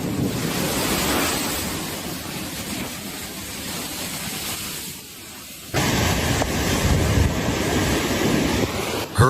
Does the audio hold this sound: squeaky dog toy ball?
no